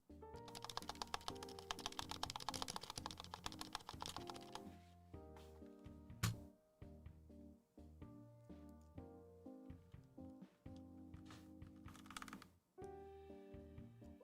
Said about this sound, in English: You can hear that the switch is a little bit loose.